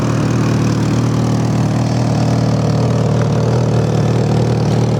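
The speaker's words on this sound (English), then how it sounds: "The inline-4 is just a real smooth running motor." A Yamaha FZ6 motorcycle's inline-four engine runs steadily at a smooth idle, a loud, close, constant hum with no change in pitch and no voices.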